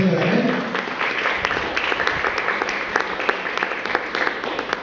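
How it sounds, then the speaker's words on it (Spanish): A church congregation at a Spanish-language sermon breaks into applause, a dense patter of many hands with distinct sharper claps standing out, with voices underneath and the clapping gradually settling. "¿Cuántos le dan un aplauso al Señor?"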